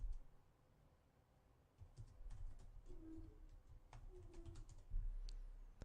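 Someone types a name on a computer keyboard: faint, scattered key clicks come in irregular bursts over a low background hum, with no talking.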